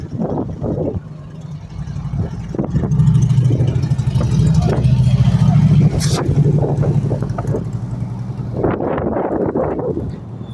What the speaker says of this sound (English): bike going around the back of the shop